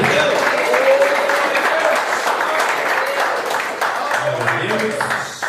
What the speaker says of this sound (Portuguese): com as palmas bem fortes para Jesus nesta noite